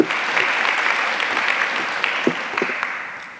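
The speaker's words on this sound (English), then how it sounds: "Please give them a round of applause." An audience at a presentation on Somali communities in Ohio and Minnesota breaks into loud, sustained applause that slowly fades, with scattered sharper claps standing out and a few voices underneath.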